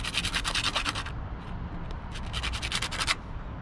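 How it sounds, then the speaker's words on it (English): Sandpaper scrubs the tip of a boat spark plug in quick back-and-forth strokes, a close, bright rasping that comes in rapid bursts, pauses briefly, then resumes with no voices. "We're gonna clean it with the sandpaper."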